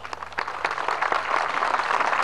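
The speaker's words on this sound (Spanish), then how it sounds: "Damos un aplauso al Dios Todopoderoso." A congregation at an interreligious independence ceremony in Bolivia applauds, scattered sharp claps at first quickly thickening into a fuller, continuous round of clapping.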